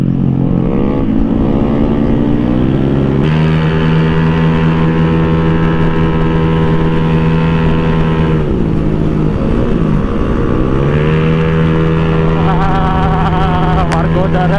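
A Yamaha Aerox scooter racing on a city road, its CVT engine held at high revs in a loud, continuous droning whine that dips and climbs in pitch, very close throughout.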